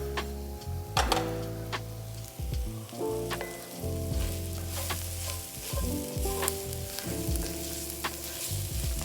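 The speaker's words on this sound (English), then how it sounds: "Now we just need to cook the flour enough so it doesn't have that raw taste to it." A flour roux cooking in a pan on a stovetop burner, a continuous close sizzle with occasional stirring scrapes and ticking clicks, and no speech.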